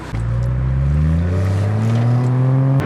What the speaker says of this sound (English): I'm gonna start revving it